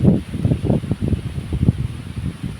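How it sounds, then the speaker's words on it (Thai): Strong wind gusts around a house in rural Thailand, a steady broad roar with rustling and buffeting bursts close to the microphone, alone without talk. "เสียงลมสุดยอดมาก"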